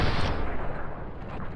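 A burst of heavy gunfire and booming explosions from a Fallout: New Vegas game mod, loud at first and then trailing off into a rumbling decay.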